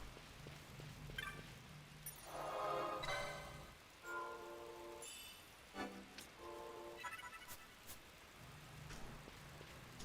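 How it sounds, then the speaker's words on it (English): Rain falls in the Final Fantasy XII video game, a steady soft hiss spread across the whole scene beneath game music, chimes and tonal effects, with no clear talk over it. "Oh, it's raining."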